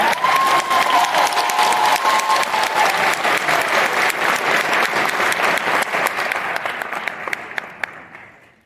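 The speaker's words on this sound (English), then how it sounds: "please join me to give one more round of applause for this speech" A large crowd applauds steadily at a graduation pinning ceremony, loud and sustained, then the clapping thins out and fades toward the end.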